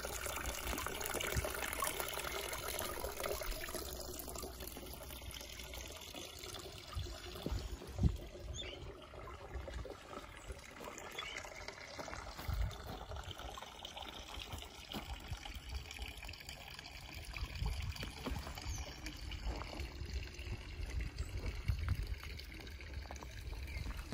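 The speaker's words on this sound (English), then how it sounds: "the garden echoes with the burbling sound of running water, emanating from features like this small pool and a nearby fountain" Gentle burbling of running water in a garden, from a small pool, a fountain and a narrow stream along a croquet lawn; a soft, continuous trickle and splash, faint and steady throughout, with no talking.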